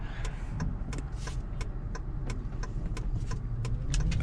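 A car drives along a newly paved road, giving a steady close engine and tyre hum with a few light ticks and rattles on top, and no talking.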